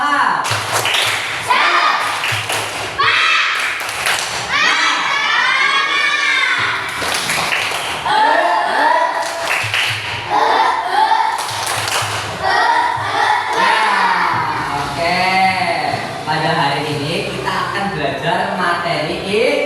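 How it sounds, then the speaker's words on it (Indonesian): Children in a primary school science class doing a rhythmic spirited clap chant, repeated bursts of patterned clapping and thumps mixed with their chanting voices, loud and close throughout. "Coba yang keras, tepuk semangat."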